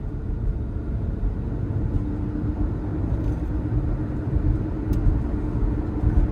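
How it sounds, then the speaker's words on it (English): Steady low rumble and broadband road roar inside a 2011 Lincoln MKX cruising at highway speed, tire noise droning evenly with no breaks, moderately loud and close, no talking. "I think I'm getting some tire noise."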